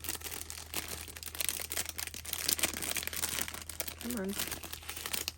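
A package of mixed media scrapbooking stickers being opened, with steady crinkling and rustling of plastic packaging close by, and a person briefly speaking over it.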